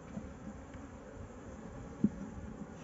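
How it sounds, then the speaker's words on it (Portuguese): A swarm of abelha campeira bees in a tire gives off a faint, continuous low buzz, with one brief louder bump partway through and no voices. "tô vendo o bolinho de abelha aqui"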